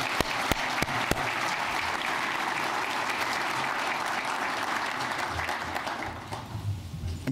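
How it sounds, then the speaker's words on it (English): Sustained audience applause fills an indoor hall during a police commissioner's State of the NYPD address, a steady dense clatter of many hands with a few sharp claps up front, tapering slightly near the end. "Give her a round of applause,"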